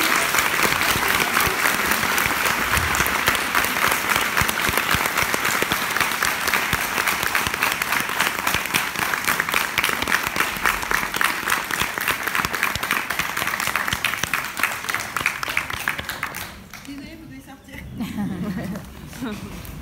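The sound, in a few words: audience applause for Julie Benz at Comic Con Paris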